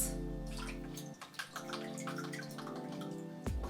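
Water, mixed with soy sauce, olive oil and rosemary, is poured over a seitan wheat-meat roast and vegetables in a baking dish, a steady close splashing trickle that ends with a final slosh, with no voices.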